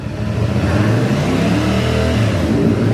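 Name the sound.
CF Moto 450 CLC motorcycle engine revving to 4,000 RPM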